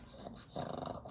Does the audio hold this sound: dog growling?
yes